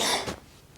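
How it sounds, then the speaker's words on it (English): A single short, close cough sounds alone, followed by a faint trailing breath. "Now you're coughing. I'm coughing."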